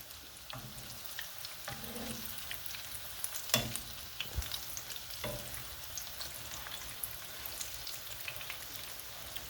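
Chicken pieces fry in a pan for a homemade chicken sandwich, giving a steady close sizzle with scattered pops and a few louder clicks as the pieces are moved around.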